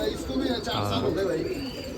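Pigeons, including a kept breeder pair, coo softly in a low, throaty warble at a pigeon festival in Nashik, heard beneath people talking nearby.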